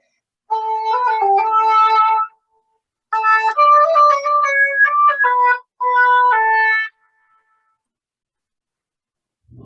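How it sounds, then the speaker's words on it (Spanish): An oboe plays clear, reedy melodic notes in three separate phrases with short silences between them, heard alone and close. "Y este es el sonido del oboe"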